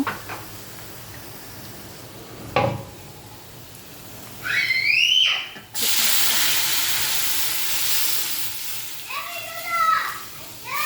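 Dal poured into hot fried spices, onion and crushed garlic in a pan sets off a loud, steady hissing sizzle that holds for several seconds after a brief clatter, with faint background voices.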